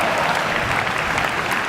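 Keynote audience applauding steadily throughout, a dense even wash of many hands clapping close by, with no voices standing out.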